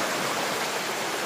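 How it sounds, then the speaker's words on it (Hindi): A waterfall near Pune gives off steady, loud rushing water, a dense unbroken roar heard up close with no voices over it. "यहाँ पे पानी है, पानी बहता है"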